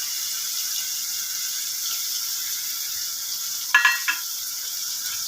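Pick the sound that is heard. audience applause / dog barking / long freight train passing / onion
onion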